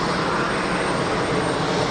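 Heavy jet airliner engine at Geneva Airport spinning up, a steady broadband roar close and loud throughout with no talking.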